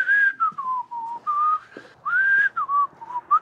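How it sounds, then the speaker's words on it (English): A person whistles a tune nearby, clear pitched notes in short bending phrases with brief breaths between them, loud and alone. "I probably shouldn't whistle because it'll be like copyright infringement or something."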